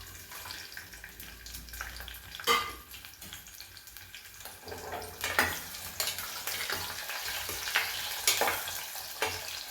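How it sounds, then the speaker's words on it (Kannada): Spices and vegetables frying in hot oil for tomato vegetable bath, a continuous hiss and sizzle punctuated by sharp spatters and stirring clatters that grow busier toward the end, with no voices. "ತರಕಾರಿ ಬಂದು ಎಣ್ಣೆಲಿ ರೋಸ್ಟ್ ಆಗಬೇಕು ಚೆನ್ನಾಗಿ"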